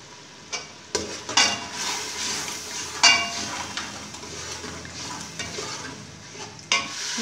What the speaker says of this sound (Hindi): अब मैं इसको अच्छी तरह भून लूँगी